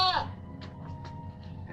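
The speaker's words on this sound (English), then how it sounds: "Is that a goat? Yes, Papers. It's a goat." A goat bleats once, a short wavering cry close by, followed by quieter scattered sounds in a dim room.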